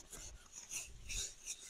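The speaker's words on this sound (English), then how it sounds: "she has just kept the sand on it and she's rubbing it with her palm" Grainy rasping of sand rubbed by a bare palm over a cooking pot during outdoor village pot washing, in several short scrubbing strokes, close and moderately loud with no talk.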